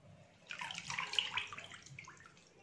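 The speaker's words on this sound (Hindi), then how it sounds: "पानी में डिप किया" Flour-coated chicken wings dipped into a bowl of water while cooking, giving a short burst of close splashing and sloshing that fades within about two seconds, with no talking.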